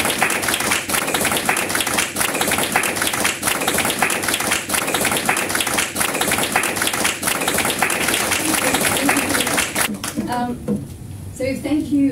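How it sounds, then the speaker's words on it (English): Sustained applause from a large crowd welcoming a speaker at an event, dense clapping filling the room for about ten seconds before it thins out and fades. "a big round of applause"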